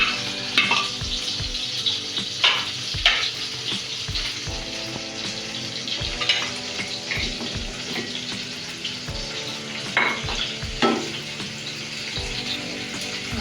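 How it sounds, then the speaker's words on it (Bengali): Sliced onion frying in hot oil for a Bengali shol fish curry, with a steady close sizzle and occasional stirring scrapes and clatters throughout, no talking. "আমরা তেল দিয়ে দিচ্ছি। পেঁয়াজ দিয়ে দিলাম,"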